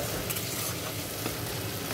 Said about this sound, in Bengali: একটু ঢাকা দিয়ে ভালো করে নেড়ে নিচ্ছি চটজলদি